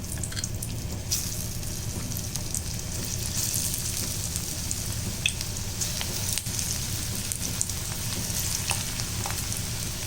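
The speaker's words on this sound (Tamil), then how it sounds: "இதிலே நம்ம இந்த உருண்டையெல்லாம் போட்டுக்கலாம்." Plantain kola balls fry in hot oil in a pan over a low flame, giving a steady, close, continuous sizzle with scattered crackles and pops and no talking throughout.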